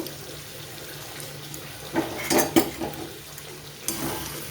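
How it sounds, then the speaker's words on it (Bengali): A pan of tomato and poppy seed mixture being stirred, with a few clinking utensil scrapes and knocks against the pan over a quiet background, close and fairly soft. "অর্ধেকটা পোস্ত দিয়ে কিছুক্ষণ নেড়ে চেড়ে নেব যতক্ষণ না কাঁচা গন্ধটা যায়"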